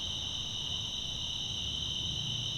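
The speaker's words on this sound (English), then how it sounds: "All we hear right now is crickets." Crickets chirp steadily in a high, continuous trill, a dense chorus filling a quiet night in a forest by a bridge.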